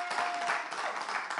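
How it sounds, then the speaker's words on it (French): Audience applause at a live variety show, a soft, steady patter of many hands clapping together for a moment, heard alone without speech. "applaudissez quand même."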